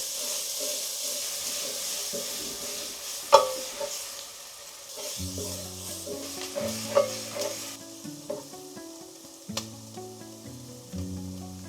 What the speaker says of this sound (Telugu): 3 మీడియం సైజ్ ఉల్లిపాయల్ని సన్నగా తరుక్కున్నవి ఇందులో వేసుకొని బాగా ఫ్రై చేసుకుందాం